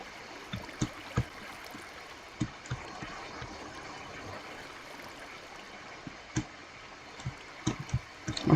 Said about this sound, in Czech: Ono jsme pod vodou.